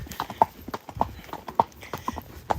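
Horse hooves clip-clopping at a steady walking rhythm on a hack through Cartmel village, close and distinct, roughly one clear strike every half second, with no talk.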